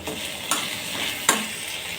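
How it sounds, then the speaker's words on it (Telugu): Cut potatoes fry in a pan with a constant hiss and sizzle, and two quick, distinct scrapes of a stirring utensil cut through it. "ఇప్పుడు ఆలుగడ్డ కూడా వేసుకోవాలండి మనం కట్ చేసిన ఆలుగడ్డని ఇందులో వేసుకోవాలి ఈ ఆలుగడ్డ మంచిగా వేగాలండి"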